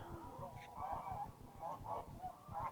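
Geese honk repeatedly at a park pond where people fish for stocked trout, the calls moderately close and overlapping in an uneven rhythm against low background noise.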